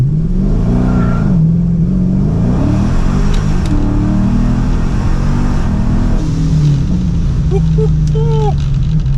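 An 1100 HP Dodge Charger Scat Pack pulling away hard with the tires briefly losing traction, its engine a loud, deep, continuous roar rising and falling in pitch through the run, heard from inside the car.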